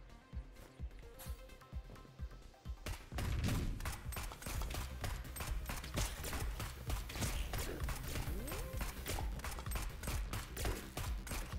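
Spent shell casings clatter to the floor during rapid shooting in the roguelike Neon Abyss. Dense, rhythmic clicks and tinkling hits repeat quickly over steady gunfire and play alone without speech.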